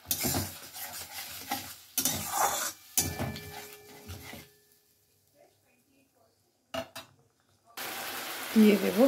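Green peas are stirred and fried in a pan, with bursts of scraping and clattering cookware, a quiet gap, then renewed sizzling and stirring at the end.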